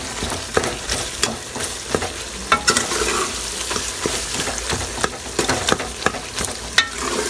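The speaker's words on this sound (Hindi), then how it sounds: "दही का मसाला है हमारा, इसको हम अच्छे से अब भूनेंगे" Chicken coated in yogurt masala frying in a pan, a loud continuous sizzle broken by frequent scraping stirs and spoon knocks against the pan at an irregular pace, no voices.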